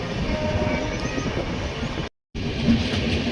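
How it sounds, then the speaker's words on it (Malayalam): Sarvodaya superfast express climbing a slight incline, recorded from a sleeper coach: a steady rolling clatter of wheels with a faint tonal note, briefly cut to silence partway, then resuming. "ട്രെയിൻ ഇപ്പോൾ ചെറുതായിട്ടൊരു കയറ്റം കയറിയാൽ പോകുന്നുള്ളത്."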